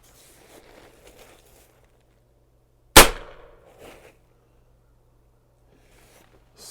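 A Diana XR200 .30 caliber air rifle firing a pellet gives one sharp, loud crack with a brief tail, set among quiet rustling and faint handling noise.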